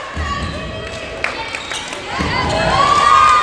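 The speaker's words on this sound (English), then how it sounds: "It's a pretty decent sized crowd here for the volleyball game." Spectators at a high school varsity volleyball game in a gym murmur and chatter, then swell into louder cheering, with a sharp ball thud heard partway through.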